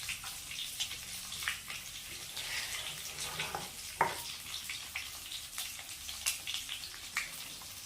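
Shallots fry in a pan while being stirred for a chicken salna, producing a moderate crackling sizzle with irregular scraping and clinking stir sounds and one sharper knock midway.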